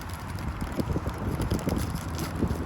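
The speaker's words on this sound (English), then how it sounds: "And of course, we're in San Francisco, so it's windy." Steady wind buffeting a microphone outdoors in South San Francisco, a continuous low rumbling roar with gusty swells throughout, no voices.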